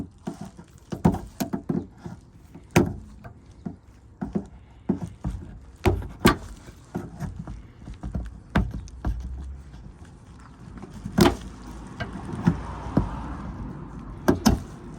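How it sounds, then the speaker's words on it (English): Pliers are forcing a plastic bumper trim clip out of a Vauxhall Zafira B. The result is a series of sharp, irregular clicks, snaps and knocks, some close and loud, with brief scraping between them and no talking. "Now I'm going to get my plier and I'm going to force it out"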